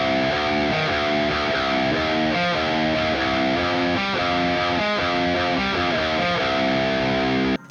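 Slow, heavily distorted metal guitar riff rings out steadily for several seconds, thick sustained chords with rhythmic accents, loud and close, ending abruptly, no voices.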